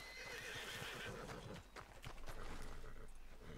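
Horses in the Red Dead roleplay game near Blackwater whinny and neigh several times at close range, with hooves clip-clopping and shuffling throughout.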